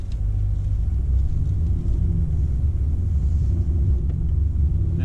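A 2021 Hyundai Sonata SEL accelerates in normal drive mode, heard from inside the cabin as a steady low engine and road rumble without talk.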